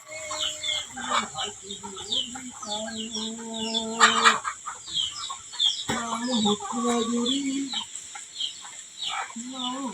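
Chickens and roosters, including a black rooster, cluck steadily up close in a village yard, with calls repeating throughout and brief voices in the background.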